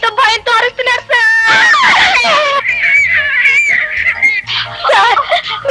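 In a scene from the Telugu film Rakta Sindhuram, loud, close, high-pitched cries and shrieks from several voices rise and overlap, mixed with sobbing wails and agitated speech.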